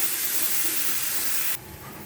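Onion paste hits browning onions in a hot pan for a Bengali fish curry, a steady loud hiss of frying oil that suddenly softens to a duller, quieter sizzle partway through.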